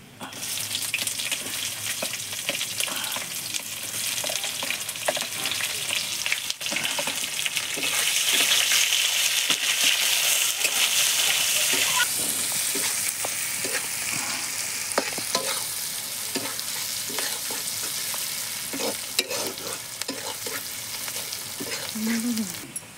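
Onions sizzle and are stirred in a hot pan for an Odia desi-style mutton and potato curry, with a steady frying hiss and scattered scraping stirs running throughout, close and loud, with no talking.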